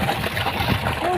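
Irrigation water pouring into a field basin on a Gujarat farm, a close splashing, sloshing gush running continuously under a person talking.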